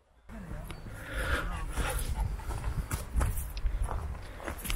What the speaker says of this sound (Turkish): Rick de çok güzel bir köpek